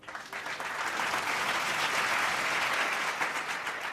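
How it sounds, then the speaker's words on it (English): Applause at a years-of-service celebration swells quickly into a steady wash of clapping from an audience, sustained for several seconds at moderate volume. "Please join me in a round of applause for Liram Mamini."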